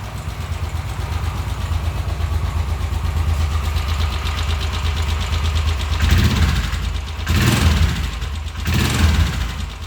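A Royal Enfield Continental GT 535 cafe racer, single-cylinder with electronic fuel injection, idles up close with a steady low thumping throb, then gets a few quick blips of throttle near the end.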